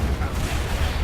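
Gunfire from a Marder III tank hunter in a Company of Heroes battle: a loud, dense, continuous low rumble of heavy booms and blasts with no pause.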